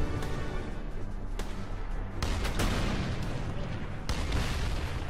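A tank turret cannon firing in Valkyria Chronicles 4, heavy booming blasts and dense battle noise throughout, with sharp louder shots around the start, middle and near the end.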